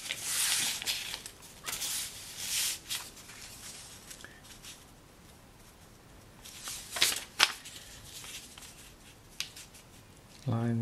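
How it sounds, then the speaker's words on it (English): Paper being handled and torn along a straight edge from an album's end papers, heard as a few short close rustles and rips separated by quiet pauses. "tear off a straight edge here"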